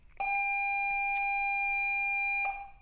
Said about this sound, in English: Oh, there's the bell for you guys to not be here.